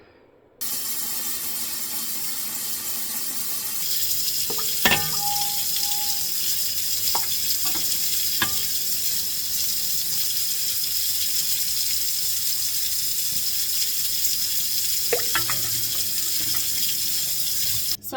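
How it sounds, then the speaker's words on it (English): Tap water runs steadily into canning jars being half-filled before pressure canning vegetable broth, a close, continuous rushing stream with a few glassy clinks and knocks as the jars are handled. "I'll fill my jars half full with water, pop them in here so that they can get warm before I add the hot broth to the jars"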